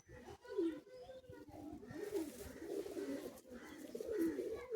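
Andhra pigeons coo repeatedly, soft throaty warbling calls close by, overlapping one another in a continuous low burble.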